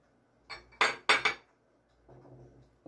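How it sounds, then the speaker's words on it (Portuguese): Four eggs going into a bowl of simple cake batter: a few sharp cracks and clinks against the bowl in quick succession, fairly close, followed by a softer low rustle. "Vou colocar os 4 ovos."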